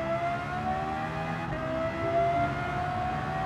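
Lexus LFA V10 engine in Gran Turismo 7 holding a steady high-pitched revving whine with slight pitch shifts, loud and continuous throughout with no talking.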